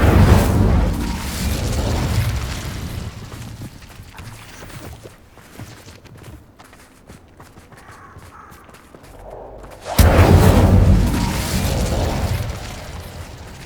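Spell effects from the Hogwarts Legacy video game, including the fire spell Incendio: loud booming bursts open the stretch, then a quieter rumbling middle, and another loud burst of impacts and crackle near the end.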